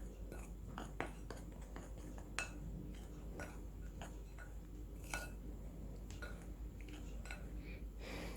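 Roasted chana dal ladoo mixture is worked together with ghee in a bowl, giving a run of soft, irregular ticks and scrapes of a spoon, faint and close over a low steady hum.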